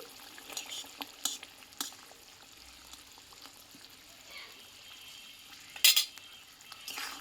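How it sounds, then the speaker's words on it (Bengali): A spoon works fried spice mix and ghee through a thick vegetarian kochu (taro) curry in a pot, making faint, close scraping and soft stirring with a few sharp utensil clinks against the pan. "ভাজা মশলার ঘিটা দিয়ে আমি একটু নাড়াচাড়া করে নিয়ে বন্ধুরা নামিয়ে নেবো"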